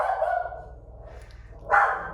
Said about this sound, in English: if you can hear me over the crazy dog